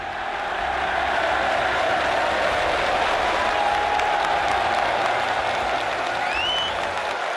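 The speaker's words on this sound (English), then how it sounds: "And the crowd roars." Snooker crowd at the Crucible in Sheffield roaring and applauding at the World Championship, a dense, steady wall of clapping and cheering that fills the whole stretch at full loudness.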